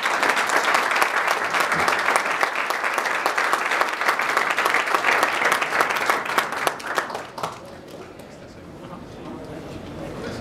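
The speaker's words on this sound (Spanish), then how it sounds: "Bueno, un aplauso para Simon." Loud, dense applause from a conference audience at a press event for a sound-equipment expo fills the room for about seven seconds, then drops away into low room murmur.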